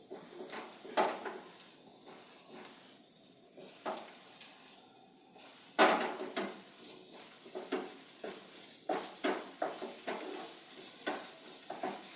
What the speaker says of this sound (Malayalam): കുറച്ച് സമയം നല്ലോണം വഴറ്റി ഒന്ന് നമുക്കൊന്ന് ഫ്രൈ ചെയ്തെടുക്കാം.